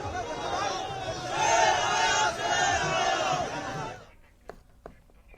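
A dense crowd at an election road show in Haldwani, with loud continuous cheering and chanting that swells midway, then cuts to near quiet with a few faint knocks.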